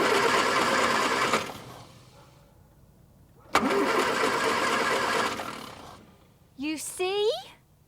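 A car engine cranks in two long bursts with a starter churning but never catching, a gap of quiet between attempts, followed by a short, rising voice at the end.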